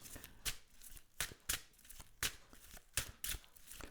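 Tarot cards being shuffled close up, a run of quick papery riffles and slaps in a loose repeating rhythm, quiet overall with no talking.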